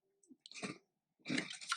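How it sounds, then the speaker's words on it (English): A dog crunching on a bone nearby, two short bursts of chewing and cracking separated by a quiet pause in an otherwise silent room. "One of my dogs is eating a bone."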